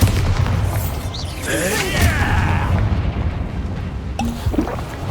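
A Bombarda explosion spell in Hogwarts Legacy makes a loud booming burst close up, followed by crackling, whooshing magical effects and a voice.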